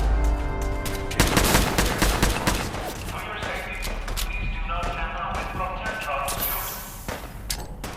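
Rapid bursts of gunfire from Fallout 4 combat, dense and loud, with repeated sharp shots and a quick volley near the one-second mark, continuing through the clip over game ambience.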